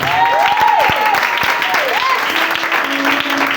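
A church congregation applauding and cheering loudly, dense clapping throughout with shouts and whistles rising over it.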